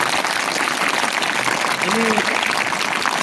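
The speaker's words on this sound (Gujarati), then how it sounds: "તાળીઓના ગડગડાટથી" An audience gives a sustained round of applause for the children who performed in a school program, the clapping loud and steady while a voice talks over it.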